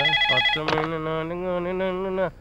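A phone rings with a melodic song as its ringtone, a clear sustained tune playing close and alone for a couple of seconds before cutting off.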